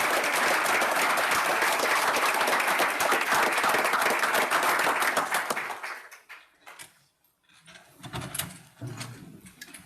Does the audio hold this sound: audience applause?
yes